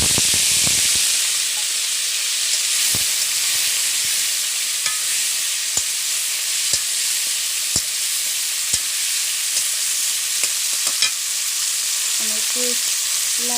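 Potatoes and green chillies fry in hot oil with a steady, close sizzling hiss. Occasional sharp taps of stirring punctuate it, and a few faint clinks come near the end.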